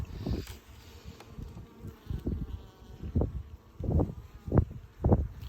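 Honeybees buzzing in a steady drone close by on a hive frame, with soft bumps and rustles rising and falling throughout.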